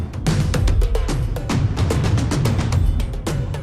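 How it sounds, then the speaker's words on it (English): Layered drum sample libraries, the Decadence kit combined with Spitfire Hammers: a steady, punchy pattern of booming low hits and sharp percussive strikes in quick rhythmic succession, loud and dry, with no talk. "These are drum sounds by Charlie Clouser"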